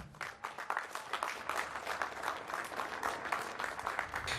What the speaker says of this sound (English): the speech itself received some applause overall